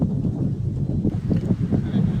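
A gentle breeze blows at Blue Lake in Bintan, heard as a steady low rumble of wind buffeting the microphone with soft gusty swells throughout.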